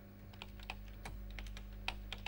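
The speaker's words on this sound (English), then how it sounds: "I'm just going to type in the title of this dialog box" Quick irregular keystrokes on a computer keyboard as a dialog box title is entered in software, a run of close, crisp clicks over a low steady hum with no voices.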